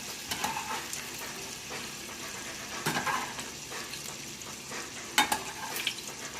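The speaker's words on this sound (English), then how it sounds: "This is a real fast cook. It's just flash fried." Pork chops flash frying in very hot oil, a steady loud sizzle and crackle with a few sharper pops, close up and with no talking.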